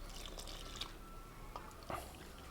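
Water poured into a bowl of flour, oil and yeast for dough, a faint trickle with a few soft drips and splashes, quiet and close.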